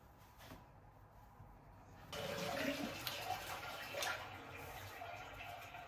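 Shower water runs steadily in a campsite bathroom, a broad rushing spray that starts abruptly partway through and continues alone at moderate level after a quieter start.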